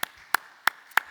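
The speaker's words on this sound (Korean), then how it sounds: "우리 하나님 앞에 큰 영광의 박수 올려드립시다." Clapping during a Korean church worship service: four crisp, evenly spaced hand claps ring out alone in a quiet room.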